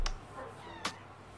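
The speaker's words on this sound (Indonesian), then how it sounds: "wow, ada kucing." A cat meows indoors, two short, faint calls about a second apart against a quiet background.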